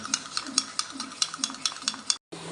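Sour curd is whisked in a bowl with a brisk, regular rhythm of about a dozen close, clicking strokes, then a brief pause before the beating resumes.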